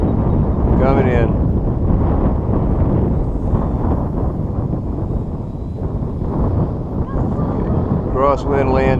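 Strong crosswind from the ESE buffets the microphone during a floatplane landing, a loud continuous rumbling roar that persists throughout, with voices talking over it near the start and end.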